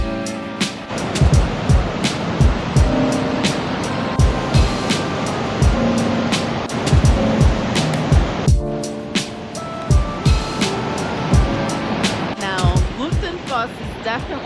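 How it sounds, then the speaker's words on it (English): A steady, heavy roar of a powerful Icelandic waterfall on the Golden Circle fills the scene, broadband and continuous, with intermittent low thumps and brief voices near the end. "Definitely the most powerful waterfall we've seen so far."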